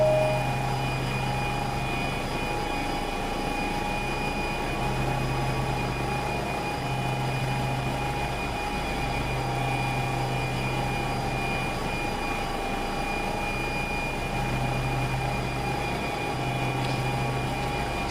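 Helicopter in the X-Plane 10 flight simulator climbs out from a hover at maximum performance, a loud, steady engine and rotor drone with a pulsing low hum throughout and no talk.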